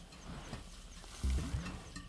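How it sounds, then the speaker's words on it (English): A warthog hidden inside its underground den in the Timbavati makes low, muffled grunting sounds, with a stronger burst of deep rumbling about midway through, faint and enclosed against quiet night ambience. "Muffled sounds give away that a warthog is in its den."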